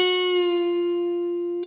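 A single sustained electric guitar note, with the string bent before it is plucked, rings out, its pitch holding with a slight bend, then decays and is cut off with a faint click.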